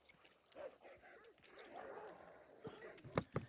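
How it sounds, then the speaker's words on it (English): Dogs in the Hunt: Showdown video game yip and whimper in short bursts over ambient game noise, ending with a couple of sharper, louder yelps close by. "don't like them dogs barking at me"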